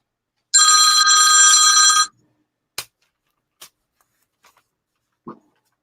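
A phone ringtone sounds loudly once in a burst of about a second and a half during a record auction, followed by a few sharp clicks and small handling noises in a quiet room.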